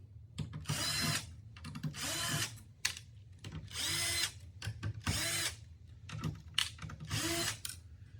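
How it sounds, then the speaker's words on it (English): Repeated bursts of a power screwdriver whirring as screws are removed from a PS5 console, each lasting about a second, with short pauses and small clicks between them. "I'm just gonna take off all the screws real quick"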